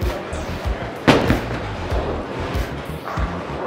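Bowling ball crashing into pins at a league game in a bowling alley, a sharp loud impact followed by clattering, set against a busy background of other lanes and distant thuds.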